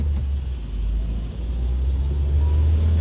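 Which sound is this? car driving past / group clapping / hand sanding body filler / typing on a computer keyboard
car driving past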